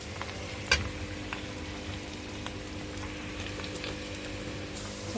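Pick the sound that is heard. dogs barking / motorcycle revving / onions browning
onions browning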